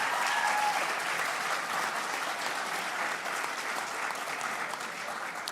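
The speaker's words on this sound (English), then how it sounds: "Let's give them a big round of applause" A large crowd at a Year 12 valedictory ceremony applauds in a steady, dense wash of clapping that holds at a high level for the whole stretch.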